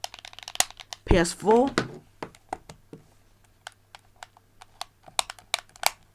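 PS4 DualShock 4 and PS3 DualShock 3 controller triggers give a steady run of sharp, close clicks, loud and crisp, with someone speaking briefly near the start.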